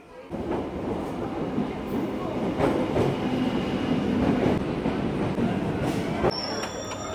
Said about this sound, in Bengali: এখন এই লোকাল ট্রেন ঢুকছে, এক্ষুনি বেরিয়ে যাব জিরাট স্টেশন থেকে সোজা